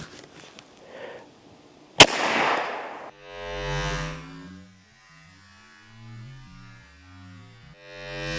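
A Canuck 12 gauge pump-action shotgun fires a Lightfield wildlife control round at a giant gummy bear target: one sharp, loud report, followed by a lingering hum and warbling electronic tones.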